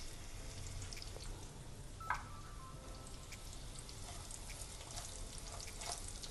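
Powdered chana dal, urad dal and fenugreek with turmeric hit a hot tempering for mango rasam, sizzling quietly and continuously as a spoon stirs with faint scraping clicks, no voices.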